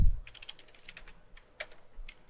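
Keys tapped on a computer keyboard while a new password is entered, a quick irregular run of light clicks at close range with one firmer keystroke, no voices.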